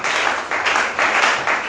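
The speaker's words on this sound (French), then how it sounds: "Si tu es là, acclame encore le Seigneur" A church congregation applauding to acclaim the Lord: steady, dense clapping from many hands in a hall, swelling in waves over a couple of seconds.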